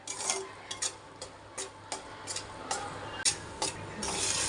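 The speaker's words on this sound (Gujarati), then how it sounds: "તો હવે આપણે એને થોડી વાર હલાવશું પાછા" A spoon scrapes and stirs flour roasting in ghee in a pan, a steady series of rhythmic rasping strokes, close and fairly quiet, with no talk.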